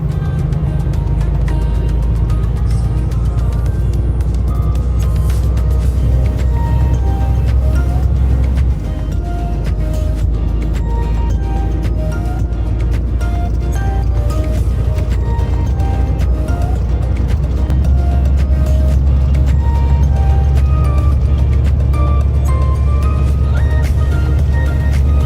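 A car drives a long road across the winter steppe of Kazakhstan between Aralsk and Irgiz, with a steady, loud engine and tyre drone that runs throughout and shifts slightly in pitch partway through.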